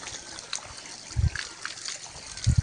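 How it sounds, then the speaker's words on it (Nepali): Water runs from a tap in a village setting, a steady close trickle and dribble with occasional heavier splashes and gurgles. "पानी पनि छिटो आउने है धारा"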